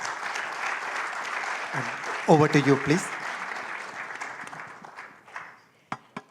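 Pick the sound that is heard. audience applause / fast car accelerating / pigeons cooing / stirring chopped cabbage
audience applause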